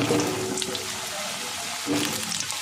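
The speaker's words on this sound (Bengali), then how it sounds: "এবার আমি এই তেলের মধ্যে একটু লবণ দিয়ে আলুগুলো ভেজে নেব।" Potatoes frying in oil with a little salt over medium heat, a steady close hiss and sizzle throughout, with a voice speaking briefly.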